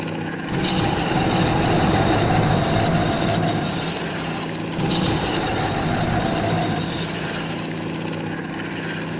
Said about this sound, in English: Train కూడా వెళ్ళిపోతుంది మనకంటే స్పీడ్.